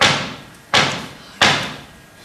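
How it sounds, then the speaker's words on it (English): Three heavy, evenly spaced knocks at a door in a stage performance of Macbeth, each a loud close thud with a lingering echo, no voices. "I hear a knock at the south entry."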